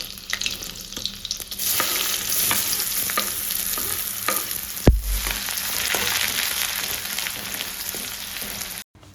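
Chopped onion sizzles loudly in hot oil for a Satara-style mutton curry, with steady frying and repeated scraping stirs, plus one sharp knock midway.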